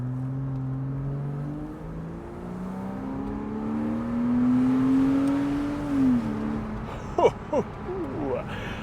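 A base Porsche Boxster with an automatic transmission accelerates, its engine tone rising steadily from inside the cabin before easing off, followed by a few brief clicks.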